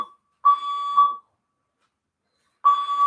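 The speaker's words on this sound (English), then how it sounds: "there is a fire alarm in the background" A fire alarm sounds in the background with steady electronic tones in two beeps separated by a gap of silence, clear and fairly loud with nobody speaking.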